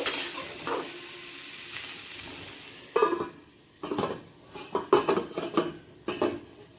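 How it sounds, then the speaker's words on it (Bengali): Potatoes and cauliflower are stirred with Kashmiri chili powder in a pan on the stove, with soft sizzling under repeated scraping and clinking of a spoon against the pan, in bursts that grow busier toward the end. "সামান্য কাশ্মীরি লঙ্কার গুঁড়ো দিয়ে আলু ফুলকপির সাথে একটু মিশিয়ে নেব"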